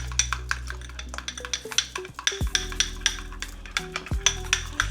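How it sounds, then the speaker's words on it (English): A spoon stirs shrimp and crab salad seasoned with salt, giving quick repeated clinks and scrapes against the bowl, close and fairly loud, with no talking. "So I'm gonna stir this up, right?"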